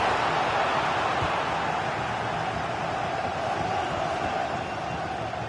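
Stadium crowd reacting to a corner kick in the EA Sports FC 26 football game, a dense, steady roar of massed voices holding at a constant level with no commentary over it.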